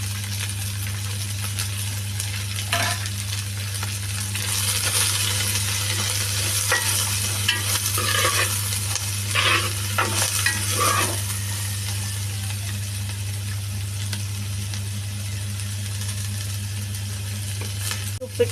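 Chopped onions and beef, about half a kilo of meat with three onions, sauté in a pan with a little salt for a beef fry. A steady sizzle runs throughout, with a low hum beneath it and occasional stirring scrapes.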